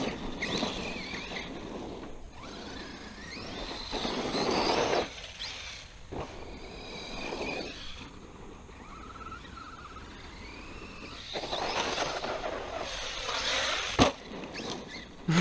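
An Arrma Kraton 4S RC car runs at full throttle with a whining, surging motor whir that rises and falls in repeated bursts, mixed with wind noise and rough outdoor rumble.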